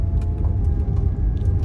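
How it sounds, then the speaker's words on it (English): A loud car engine in a car with no sound deadening drones close and continuously, a deep steady rumble with slight pulsing and no talk over it. "The motor is very loud, but I don't mind that part because it sounds awesome."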